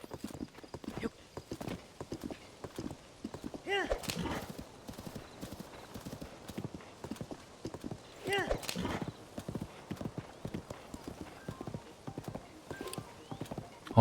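Horse hooves clip-clop in a steady rhythm in Zelda: Tears of the Kingdom, with a couple of whinnies rising over the trotting and a voice speaking at times.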